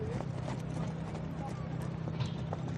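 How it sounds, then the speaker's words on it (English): Horse hooves clip-clopping at a canter during an endurance race, a steady rhythmic beat under continuous commentary and crowd noise. "German Nadia Ninnis, coming in at a really nice canter."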